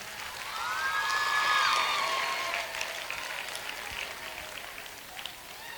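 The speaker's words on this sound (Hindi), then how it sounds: "आप लोग ज़ोरदार तालियों से इनका इस्तकबाल करें।" Faint, distant audience applause at a school annual function, a soft continuous patter of many hands swelling then easing, with a few whistle-like tones early on.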